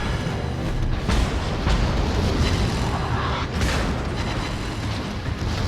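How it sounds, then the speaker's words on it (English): Secondary guns of the battleship USS Massachusetts fire at a destroyer in World of Warships, loud booming blasts landing a few at a time over a dense rumbling roar. "my secondary guns are shooting at the destroyer over there"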